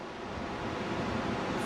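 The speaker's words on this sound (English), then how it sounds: "waves coming in, bouncing off the beach, and reflecting back out" Waves run up a beach and reflect back out through the incoming swell, producing an unbroken hissing surf roar with faint wind rumble.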